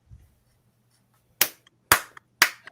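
Three sharp hand claps in a quiet room, evenly spaced about half a second apart, loud and close, following a faint soft thump.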